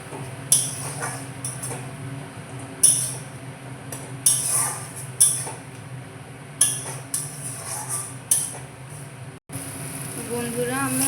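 A spatula stirs and fries spice paste for a chicken dish in a pan, with a steady sizzle underneath and repeated sharp clinks of metal scraping the pan at irregular intervals, close and moderately loud.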